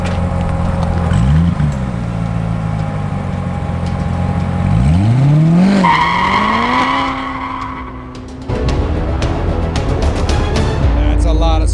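A Tesla Model 3 launches hard from a standstill on a track, tires spinning and squealing loudly as the electric drive whines upward in pitch, with brief talk nearby.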